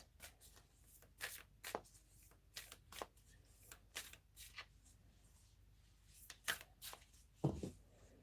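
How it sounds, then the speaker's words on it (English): A deck of tarot-style reading cards is shuffled by hand in a run of crisp riffling bursts, some quick and some drawn out, close and fairly quiet with short pauses between them. "we're just going to shuffle all these cards"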